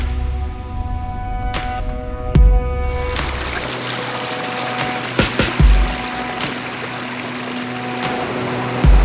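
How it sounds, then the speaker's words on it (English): A small mountain creek that flooded and washed out a hillside trickles and pours continuously in the foreground, with a few sharp knocks and thumps breaking through the steady rushing water. "This tiny little creek here"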